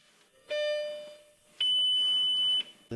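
A fire-damaged Lamborghini Gallardo LP520 dashboard sounds two electronic warning tones, a short lower beep followed by a longer, higher sustained chime. Both are clear and close in a quiet cabin.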